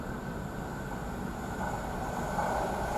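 Mangalore Surat Express hauled by a WAP-4 electric locomotive approaching on the Konkan line in monsoon weather, a steady broadband rumble of rolling wheels that swells slightly as it nears, no voices.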